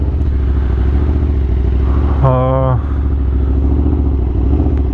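An Aprilia RSV4 superbike engine drones steadily under wind noise while riding, with a brief rising tonal whine in the middle.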